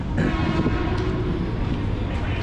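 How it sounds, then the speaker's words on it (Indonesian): A KRL commuter train rumbles into a station with a steady low roar and rattling, with brief higher tones and faint background noise mixed in. "Nah, ini KRL-nya udah sampai."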